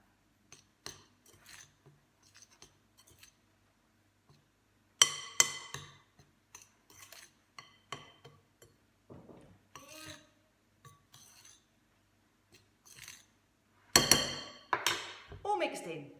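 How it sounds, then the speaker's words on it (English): Sugar mixed in a bowl with a spoon in a school food technology room, irregular light clinks and scrapes of metal against the bowl, with denser bursts of rapid stirring, close up and alone. "My sugar goes straight into my bowl, and with a spoon, I'm going to mix it up."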